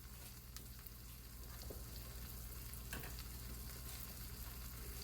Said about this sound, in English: I now got that piece of meat in the skillet, and it's going to brown on a medium low